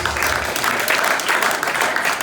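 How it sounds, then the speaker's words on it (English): Audience at a Liberian government and United Nations event breaks into a round of applause, dense and steady clapping filling the hall at close range for the whole stretch, with no talk over it. "Can we kindly give them another round of applause?"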